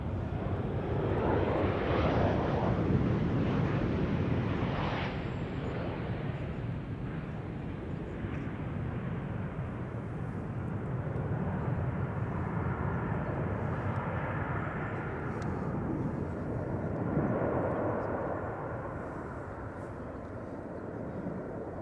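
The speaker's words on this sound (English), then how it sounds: "Here in the foreground, the sounds of another 737 KLM flight" A KLM Boeing 737 arriving from Budapest at Amsterdam Schiphol sends a broad, steady jet roar across the field, swelling and fading gently over about twenty seconds as it passes at moderate distance.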